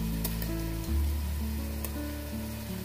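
Chopped tomatoes dropped into hot oil for Andhra-style fish curry, a steady close sizzle that swells as they land and then settles into a continuous hiss, with no talking.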